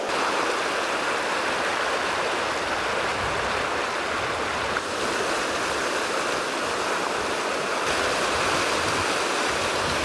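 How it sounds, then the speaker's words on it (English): Fast-flowing water of Montana's Big Hole River rushes steadily and close by, a dense, even hiss and gurgle that fills the whole ten seconds without voices. "We've come to a fast portion here where it looks like it should be good nymphing."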